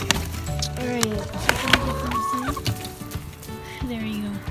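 Pet backyard chickens clucking and murmuring close by in short, varied calls, with a person talking over them.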